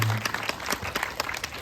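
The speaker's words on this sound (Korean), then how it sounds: "네, 박수 부탁드립니다." Brief burst of audience applause at a film screening Q&A, many hands clapping close and dense for under two seconds.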